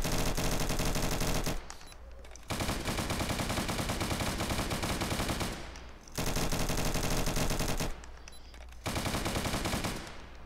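Automatic gunfire in a video game: long, loud, continuous rattling bursts close up, separated by brief pauses, with no talk over them.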